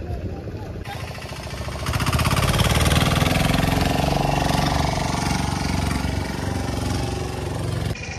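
A boat engine on Chilika lake starts up with a rising roar after about two seconds and then settles into a loud, steady chugging idle, with voices nearby.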